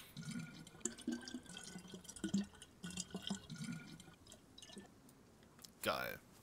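Water bottles are filled in DayZ, with intermittent pouring and dripping at moderate level, and a brighter splash near the end, while someone talks over it.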